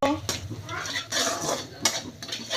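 Brinjal pieces with masala are stirred and roasted in a pan, giving repeated metal scrapes and clatters in uneven bursts at close range, with a voice faintly present.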